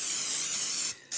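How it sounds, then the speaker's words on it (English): A short hissing spray of cooking oil onto a waffle maker, a bright, steady aerosol hiss close by that pauses briefly near the end and then resumes. "So I'm just gonna spray it again with some oil"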